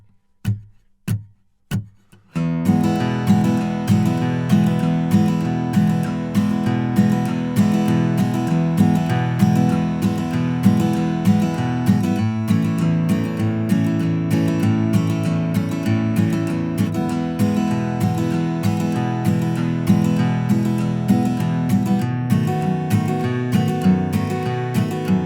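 Acoustic guitar strums a brisk, driving boom-chick country rhythm, opening with a few separate plucks before settling into steady, continuous chording played alone.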